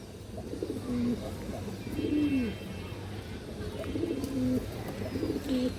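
Old-line pigeons in a breeding loft coo repeatedly in low rolling phrases, several bursts spread across the stretch, fairly close, over a constant background hum.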